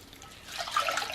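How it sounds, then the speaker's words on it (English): Water poured from a cup into a stovetop pot for cooking oats, a soft splashing trickle that swells after a quiet start and runs steadily, close and moderately loud with no talking. "I'm going to be adding twice the amount of water, so this is a cup"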